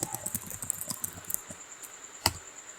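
Quick bursts of close key taps on a computer keyboard as a terminal command is entered, followed by a pause and one sharper keystroke.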